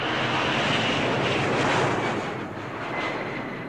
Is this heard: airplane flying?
yes